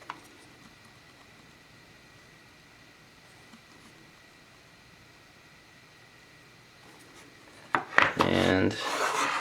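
A small wooden presentation box for a Glycine Airman No 1 Purist watch is opened. Near-silence gives way to a brief, close burst of woody rubbing and scraping at the very end.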